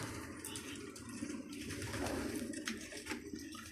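A pigeon coos on a rooftop, soft and low, in a few repeated throaty phrases against a steady outdoor background.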